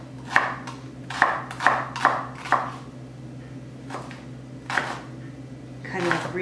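A knife chops half a shallot on a cutting board, finely dicing it: a run of sharp, close taps in quick bursts, then a pause and a few more strikes, over a steady low hum with some talk.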